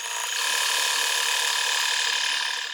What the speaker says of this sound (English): I'm gonna flip the hoop back over, attach it to the embroidery arm, and stitch